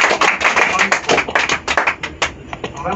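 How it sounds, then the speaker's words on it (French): An audience at a stage hypnosis show applauds and taps, the clapping loud and uneven with some voices mixed in. "maintenant, on peut les applaudir."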